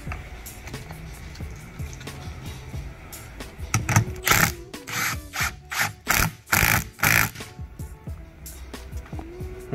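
Ratchet clicking in quick bursts while tightening the top nut on an Ohlins road and track coilover, close and crisp, with faint mechanical handling noise before it.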